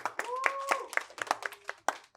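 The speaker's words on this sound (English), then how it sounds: "Give your round of applause to Mr. Nigel" A small workshop group claps for a presenter, a short spurt of scattered hand claps with a faint whistle-like tone over it, quickly tapering to a few last claps.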